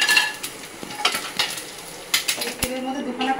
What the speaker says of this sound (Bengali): এই যে মোড়ানো মাছগুলো ভাজা হয়ে গেছে,